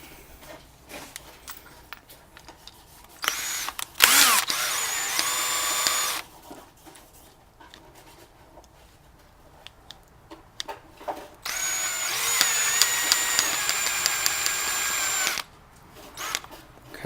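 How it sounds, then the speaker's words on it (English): A power drill whirs in two loud bursts of a few seconds each, driving screws to join leftover broken shock tower parts for a homemade heavy-duty shock tower, with quiet gaps between the bursts. "I'm going to use my drill so I can get it done a little quicker"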